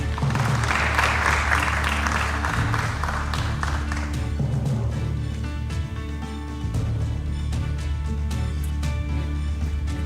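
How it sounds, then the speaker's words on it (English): Applause from a crowd at a Nairobi gubernatorial debate swells, then gradually fades into scattered claps and room noise. "You can give them a round of applause."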